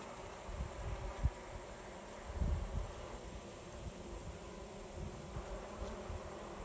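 Honey bees drone steadily and faintly around an open Layens hive during an inspection, with a few louder buzzes as single bees pass near, and no talking.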